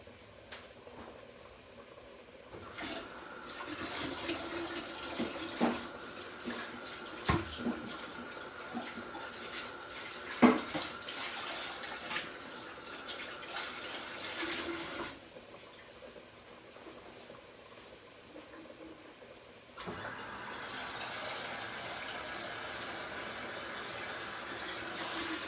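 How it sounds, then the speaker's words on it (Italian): Tap water runs into a pot set for boiling in a kitchen while spaghetti with fish is being made, a faint, steady rushing that shifts in tone as the flow changes. "mettiamo dell'acqua a bollire."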